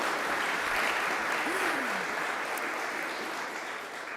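An audience applauds at a county State of the County address, steady sustained clapping throughout that tapers slightly toward the end.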